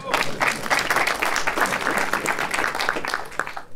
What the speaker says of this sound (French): Ouais, vous pouvez applaudir, mais soyez heureux.